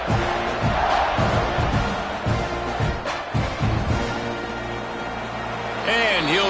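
Stadium crowd at a football game, a broad roar with surging rises and falls, heard under a commentator's voice talking over it.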